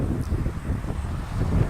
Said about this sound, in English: you have to have a mic because it's too windy out here